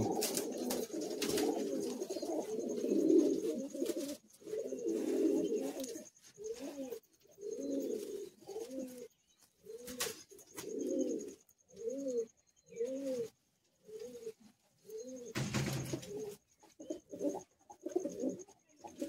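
Madrasi high-flying pigeons coo in a loft in Kolkata, in repeated rounded phrases, close and clear, with short pauses between calls and a faint high background tone.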